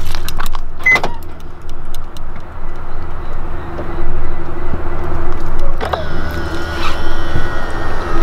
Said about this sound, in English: if BMW E46 had the option for power folding mirrors, look how cool that looks